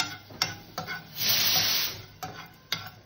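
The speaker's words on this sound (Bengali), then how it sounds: "অল্প কটা ধনে, অল্প কটা জিরে, এটাকে আমি ভেজে নেব।" A few coriander and cumin seeds toast in a hot pan, with soft sizzling that swells in the middle and sharp scraping stirs at intervals, close and fairly quiet.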